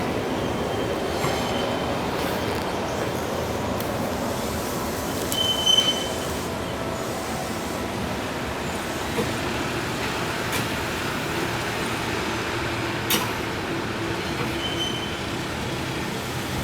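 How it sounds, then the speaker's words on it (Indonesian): A retired Tokyo Metro 6023 electric commuter train, used for shunting, rumbles steadily nearby for a long stretch, wheels grinding and occasionally squealing softly, with no talking. "Dan saya juga kaget ini dijadiin kereta langsir."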